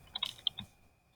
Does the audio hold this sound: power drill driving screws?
no